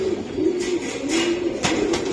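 Pakistani teddy pigeons cooing in a steady, close, continuous low warble, with brief rustling bursts over it.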